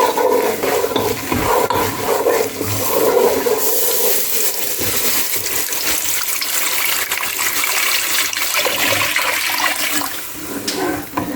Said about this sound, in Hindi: तो अब मैं इसमें दूध ऐड करूँगी।